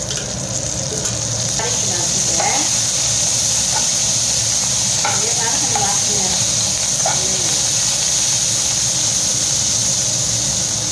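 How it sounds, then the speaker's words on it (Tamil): Mint, coriander and curry leaves sauté in hot oil for a spicy okra kara kuzhambu, giving a constant loud sizzle with occasional spoon scrapes and stirring; a voice talks intermittently over it. "இப்போ வந்து இதை நல்லா நம்ம எண்ணெயில் வதக்கலாங்க."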